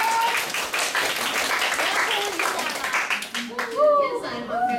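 Audience applause at a Secret Santa party welcoming two hosts, dense clapping filling the room for several seconds, then fading as children's voices and chatter rise over it.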